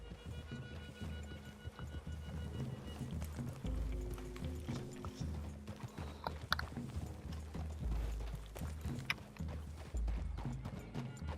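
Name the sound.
horses galloping in video game Red Dead Redemption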